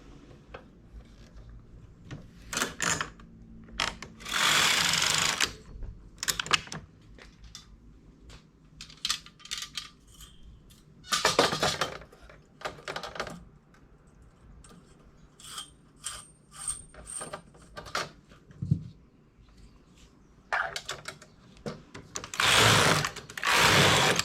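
A flatbed knitting machine with a ribber knits a short starting band, its carriage making bursts of clattering, ratcheting mechanical noise in several separate passes, with quieter gaps and small clicks between them.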